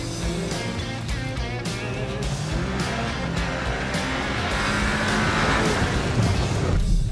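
A 2020 Cupra Ateca with 4Drive all-wheel drive is driven hard on snow and ice around cones. Its engine revs and surges loudly and continuously, and the pitch climbs as the car accelerates.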